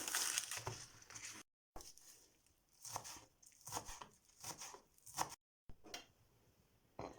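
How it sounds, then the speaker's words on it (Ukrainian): Knife chopping through onion on a board in quick irregular bursts, with short pauses between runs of cuts, close and fairly quiet. "І зараз нарізаю цибулю."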